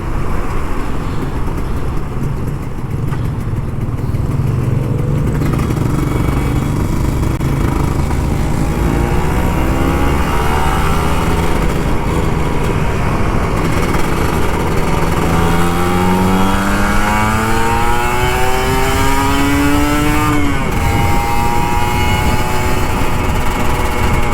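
An older Kawasaki Ninja RR 150 ridden through Jakarta on the morning commute to work, its engine loud and close, droning steadily and then revving up through rising pitch sweeps as the rider throttles, with constant wind and road noise underneath.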